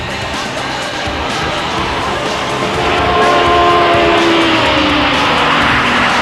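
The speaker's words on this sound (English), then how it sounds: "following bikes can take advantage of the decreased wind blast to accelerate past at the end of the straightaway" 1986 Suzuki GSXR 1100 racing motorcycles accelerating down a straightaway in a cup race, a loud continuous engine roar with rising and falling pitched whines as bikes pass, swelling louder toward the end.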